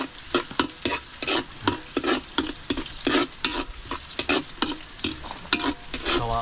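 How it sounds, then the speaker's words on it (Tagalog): Ingredients sizzling in a hot pan during sautéing for a fish escabeche dish, with loud, rhythmic stirring scrapes over a continuous close frying hiss. "Ate pong igigisa pong maigi"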